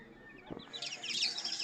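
Fighting-cock breeding hens cluck and chirp softly nearby, a few faint calls, with a dull thud in the middle.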